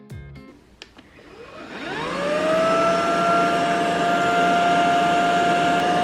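A vacuum cleaner being tested on pet hair starts up after a few clicks, its motor whine rising in pitch over two seconds and then holding a loud, steady hum close by.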